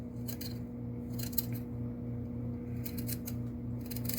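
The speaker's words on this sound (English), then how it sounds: "then you're going to cut it up in small fine pieces." Fresh coconut being cut into small, fine pieces for coconut drops, giving a run of crisp, close cutting sounds in irregular bursts over a steady low background hum.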